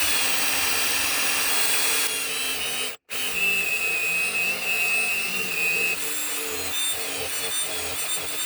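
A power drill bores a hole during a Snow Performance stage 2.5 methanol injection install. The motor gives a loud, continuous high whine at close range, cuts out for a moment, then keeps drilling with a shifting pitch.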